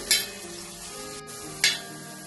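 Shallots frying in a pan give a steady low sizzle, broken by two sharp scraping stirs about a second and a half apart, with no voices.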